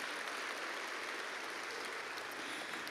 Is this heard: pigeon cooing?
no